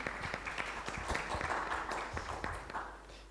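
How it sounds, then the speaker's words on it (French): Audience applause at a logistics conference panel, a short burst of scattered hand clapping heard at moderate distance, fairly faint and brief. "Vous pouvez applaudir."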